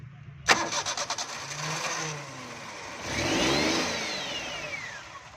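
A Suzuki Cultus with an acceleration fault cranks on the starter in a rapid chattering burst, catches, then settles into a rising and falling rev before easing off, heard fairly close with no talk.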